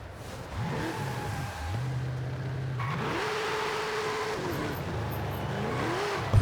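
A front-wheel-drive American classic car in Forza Horizon 5 revving and accelerating through several gear changes, the engine note climbing, dropping and climbing again, loud and continuous with no talk.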